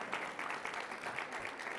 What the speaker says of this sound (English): Even though you're clapping, there will be no more projects